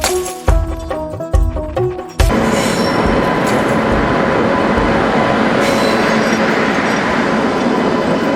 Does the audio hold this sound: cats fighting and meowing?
no